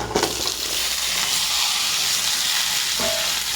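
Ginger sautéing in a pan for a spicy chutney, a steady close sizzle with soft stirring scrapes and no voices.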